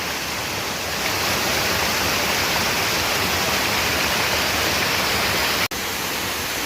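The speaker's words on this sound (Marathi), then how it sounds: "पाणी पडतंय बघा" Waterfall roaring steadily nearby in the outdoors, a loud, even wash of falling water that fills the whole stretch with only a brief dropout near the end.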